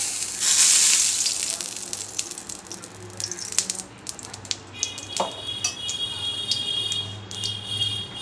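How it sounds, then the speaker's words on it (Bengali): Oil heats in a wok with a light, crackling sizzle, while scattered metallic clinks of utensils and pans ring out over a steady background hum. "কড়াইয়ে তেল দিয়ে দিলাম"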